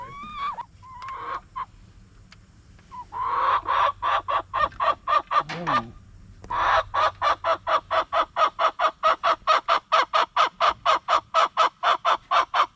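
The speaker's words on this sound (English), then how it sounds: "what's all the clucking?" Hens cluck in rapid, rhythmic bursts, a steady run of sharp repeated clucks building after a brief lull, close and loud.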